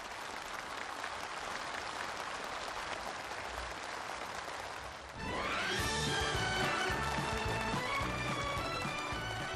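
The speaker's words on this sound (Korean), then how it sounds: "전체 참가자들이 뜨거운 격정과 환희를 안고 돋치는 열렬한 박수갈채가 준공식장을 진감하는 속에" Enthusiastic crowd applause rings out at a factory completion ceremony, steady clapping that shifts midway into louder music with applause continuing beneath it.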